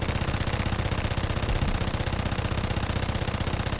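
Rapid, continuous machine-gun fire from a P-26B-35 plane in the War Thunder air combat game, a steady dense rattle of shots that runs loud and unbroken throughout with no talk.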